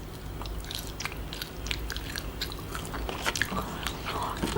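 Biting and chewing on fish during an Asian food mukbang, with kimchi, seaweed, sushi and salmon on the table; soft, close, repeated moist chewing sounds that run steadily without talking.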